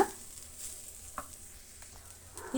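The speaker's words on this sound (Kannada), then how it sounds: "ರೈಸನ್ನು ನೀಟಾಗಿ ಕಲಿಸ್ಕೊಳ್ಳೋಣ ಚೆನ್ನಾಗಿ ಮಿಕ್ಸ್ ಮಾಡ್ಕೊಂಬಿಡೋಣ" Cooked rice is stirred in a pan for rice bath, giving a faint, soft sizzle with a few gentle scraping strokes, quiet and close throughout.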